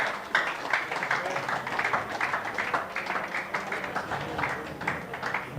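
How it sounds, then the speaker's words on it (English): A room full of people at a 9-ball pool tournament final gives a sustained round of applause, steady dense clapping throughout with no talk over it. "Massive round of applause."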